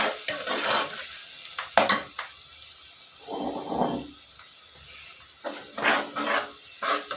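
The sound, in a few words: garlic browning in a frying pan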